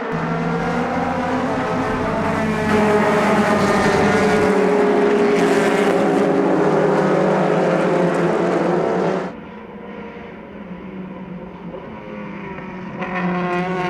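Vintage production race cars under 2.5 litres, including a Datsun, roar off the start together at a road-course race, a loud dense wall of engine noise that drops to a lower, steadier drone as the pack pulls away.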